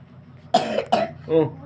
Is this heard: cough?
yes